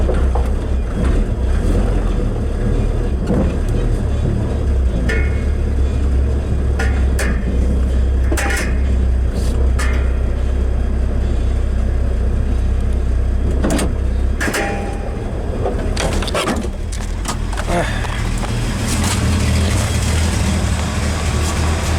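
A Jeep with a nearly flat tire being pushed or rolled inside a garage makes a loud, steady rumbling roar with scattered knocks and creaks throughout, and no voices are heard.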